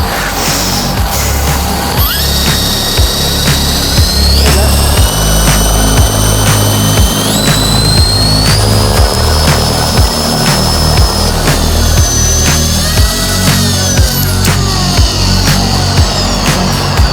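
A homemade DIY RC helicopter runs on its maiden flight with a loud, steady rotor drone and rising high-pitched motor whine, sustained close by throughout.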